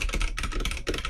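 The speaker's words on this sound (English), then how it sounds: "feel the loud mechanical keyboard sounds" Dense, rapid typing on a loud mechanical computer keyboard, with clacky keystrokes running steadily and close for about a second, with no one talking over them.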